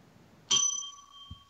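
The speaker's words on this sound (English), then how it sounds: "Steven said he'll ring a bell for you." A single bright bell ding rings out cleanly and sustains with a long ringing tone, followed by a faint low thump, fairly quiet overall.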